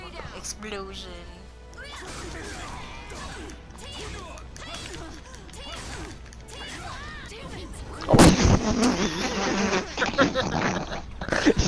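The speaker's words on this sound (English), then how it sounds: "Boom. Now stay down. Explosion." A loud, sudden blast erupts in the Soulcalibur VI fighting game, a sharp burst followed by rumbling crashes, preceded by fight effects and voices.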